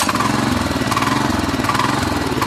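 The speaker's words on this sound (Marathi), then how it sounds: "आता नामगो ट्रॅक्टर चालू करतला." A tractor engine in the Konkan countryside runs with a steady, loud, close chugging drone and an even pulsing rhythm throughout, and no voices are heard.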